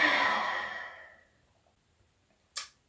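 Long, steady Ujjayi yoga exhalation with Jalandhara Bandha, a soft hissing breath that fades out over a second or so, then near silence until a brief sharp sound at the end.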